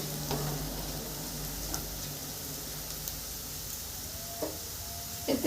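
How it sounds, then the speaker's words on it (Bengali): Chopped large onions fry in oil with a soft, steady sizzle, close but quiet, broken by a few light utensil taps and stirring clicks near the end. "পেঁয়াজটা ভাজা হয়ে গেছে, এভাবে ভেজে নিব"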